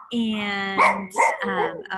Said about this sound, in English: we have a whole dog chorus happening now in the neighborhood